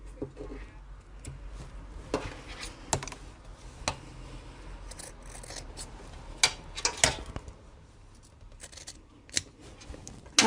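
Scissors trimming excess zip tape during sewing, a series of sharp crisp snips spaced irregularly with soft rustling of fabric between cuts, close and clear with no talking.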